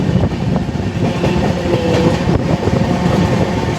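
An Indian Railways train runs near Kanpur, giving a loud, close, steady rumble with rhythmic clattering of wheels over the rails.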